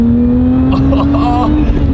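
A supercharged V6 British car accelerates on a rain-wet road, a strong rising engine tone running close and loud throughout, with a voice talking over it partway through.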